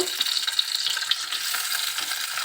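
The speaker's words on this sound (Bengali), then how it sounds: "এখন আমি ভালোভাবে ফ্রাই করে নিচ্ছি" Eggs fry in hot oil for an egg curry, giving a close, dense and steady sizzle with small crackling pops throughout and no speech.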